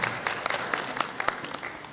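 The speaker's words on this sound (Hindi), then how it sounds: "लिहाजा इनके लिए तालियां आप बजाएं।" Applause from an audience at a poetry gathering, a short burst of many scattered claps at moderate level with no talk over it.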